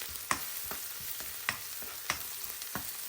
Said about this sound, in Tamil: கருவேப்பிலை, அதையும் இதோட சேர்த்து வதக்குவோம்